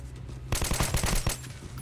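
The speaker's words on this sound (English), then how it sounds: "Who the hell's shooting at me?" Automatic gunfire in the video game Metro 2033 Redux, a rapid burst of about a dozen shots over under a second, loud against a low steady background hum.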